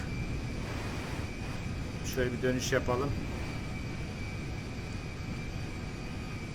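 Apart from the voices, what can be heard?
Boeing 747 firefighting tanker plane engine in the video game GTA 5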